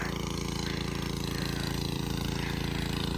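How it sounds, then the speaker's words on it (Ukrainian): A motor runs loudly and steadily, a constant droning rumble with a fast mechanical chug, close by and filling the whole clip, while strawberries are planted on a field. "тут вже дуже гримить мотор"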